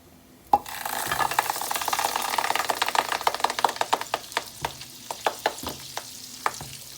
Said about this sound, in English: you're gonna allow the butter to melt, and I'm using about half cup of butter